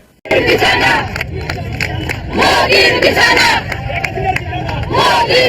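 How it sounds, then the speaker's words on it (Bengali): Dense crowd of revolutionary students chanting slogans in loud, rhythmic bursts, many voices shouting together close by, with brief pauses between phrases. "কি কি স্লোগান দিছিল আমার ক্ষুদ্র ভ্রাতার ভগিনীরা বিপ্লবী ছাত্র জনতা শোনেন"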